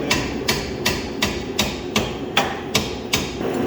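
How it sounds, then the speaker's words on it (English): A hammer strikes metal in a steady series of about ten sharp taps, tapping a suspension strut onto a Honda's fork, evenly spaced and close up, with no talking. "I'll give it a few taps with the hammer just to get it going up on there"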